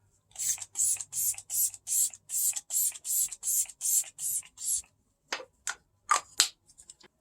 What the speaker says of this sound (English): now I'm going to give it all a good spray.